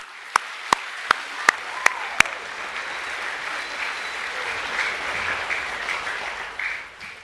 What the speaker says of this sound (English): We might give them another round of applause.